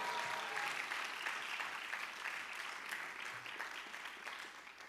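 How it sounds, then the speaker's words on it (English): Audience applause fills a high school fine arts awards ceremony, a steady wash of many hands clapping at a distance for the full stretch, fairly quiet and without talk over it. "let's give them a big round of applause."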